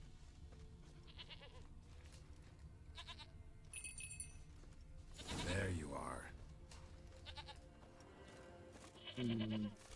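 A goat in The Witcher 3: Wild Hunt bleats loudly in two separate calls over a soft ambient background, with a person speaking briefly between them.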